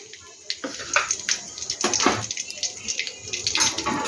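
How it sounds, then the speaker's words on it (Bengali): Raw cumin seeds and a bay leaf sizzle in hot oil as a tempering in a home kitchen, a steady crackling hiss with sharper bursts, close and fairly loud, with faint voices in the background. "দুটো জিরা দিয়ে আমি কাঁচা জিরা দিয়ে দিলাম ফোড়নে, আর একটা দিয়ে দিলাম তেজপাতা।"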